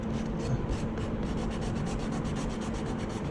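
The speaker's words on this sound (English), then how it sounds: "The rationale of sanding it is to smooth out the edges" Sandpaper rubs quickly back and forth along the edges of a BMW 118i bumper before filler, a close, steady rasping scrub with an even rhythm and no talking.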